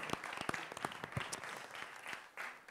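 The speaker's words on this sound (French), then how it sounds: "On peut vous applaudir bien fort." Scattered applause from an audience at a conference session, a modest cluster of distinct claps that rises and falls briefly, fairly quiet and uneven.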